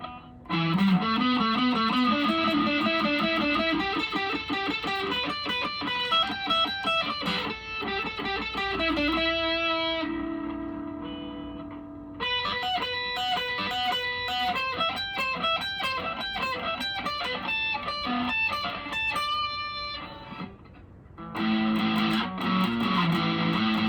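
An electric guitar, a PRS SE Paul's guitar or Epiphone SG G400 Pro, on a metal preset with compressor, preamp, modulation and reverb and both humbucker pickups selected, plays distorted riffs and chords with short pauses and ringing sustained notes.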